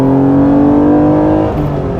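A 1994 Acura NSX NA1 engine with a hesitation fault, being given gas, drones loudly and close in a steady rev that dips slightly near the end.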